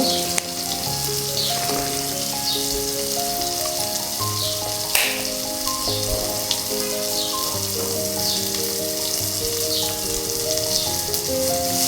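Chopped tomatoes and onions sizzle in oil for a bacha fish curry, producing a continuous hissing fry with small crackles, heard under steady background music.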